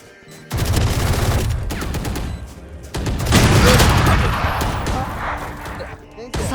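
Gunfire in the tactical shooter game Valorant, a sustained burst of loud rapid shots with booming impacts over a few seconds, mixed with game sounds and players talking.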